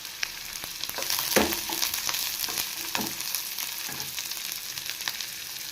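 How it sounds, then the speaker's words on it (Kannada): Onions frying in oil with cinnamon, cloves and cardamom for egg and chicken sambar, a dense close hiss and crackle with a few scraping stirs, no one speaking. "ಈರುಳ್ಳಿ ಚೆನ್ನಾಗಿ ಫ್ರೈ ಮಾಡ್ಕೋಬೇಕು, ಗೋಲ್ಡನ್ ಕಲರ್ ಬರೋವರೆಗೂ ಚೆನ್ನಾಗಿ ಫ್ರೈ ಮಾಡ್ಕೋಬೇಕು."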